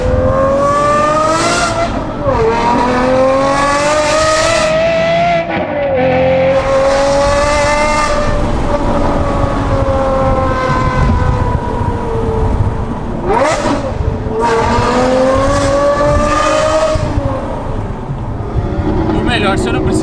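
An Aston Martin with a manual V12 roars loudly and close, climbing through the revs in repeated pulls with gear changes over twenty seconds, while a Jeep Renegade follows behind.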